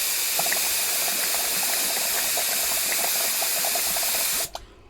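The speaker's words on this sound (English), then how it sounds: "what I'll do is blow this through now" A spray gun blows thinners through in a steady hissing, spitting stream that runs unbroken for several seconds before cutting off abruptly.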